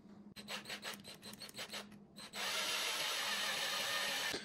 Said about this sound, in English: So now I'll just do that with a hand drill.